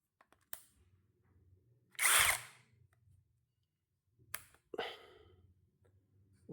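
A KEELAT KCD013 brushless cordless impact drill drives a screw in short bursts, a loud whirring run followed by a pause and then a second quicker burst, close by in a quiet room.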